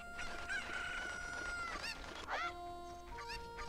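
Cucco chickens from Zelda: Ocarina of Time cluck and crow in short squawks over a steady game music bed, with no voices.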